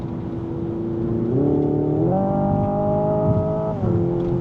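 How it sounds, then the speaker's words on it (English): Under hard acceleration, a Hyundai IONIQ 5 N plays a synthetic engine note. Its droning pitch climbs in clear steps with each simulated gear shift, then drops back. The car cruises on a German autobahn. "you have that little bit of the engine backing up on itself and that little bit boom, boom"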